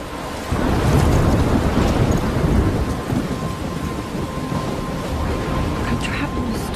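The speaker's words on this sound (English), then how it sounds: "I'm trapped in a storm?" Thunderstorm in the video game Life Is Strange: a loud, steady roar of heavy rain and rumbling thunder that swells after the first half second and holds throughout, with no talk over it.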